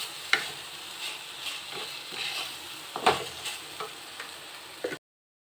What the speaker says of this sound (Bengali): এবার এটার মধ্যে আলু আর পটলটা, ভেজে রাখা আলু পটলটা দিয়ে দেবো, দিয়ে একসাথে এগুলো মিক্স করতে থাকবো।